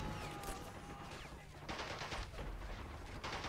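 Gunfire in the World War II strategy game Men of War Assault Squad 2, with a steady, dense crackle of rifle and machine-gun shots and heavier bursts, loud and continuous with no talk.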